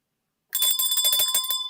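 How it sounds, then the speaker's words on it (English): A small bell rings out suddenly after silence, a quick bright run of metallic dings with shimmering overtones, close and loud, continuing for about a second. "ringy-ding that bell"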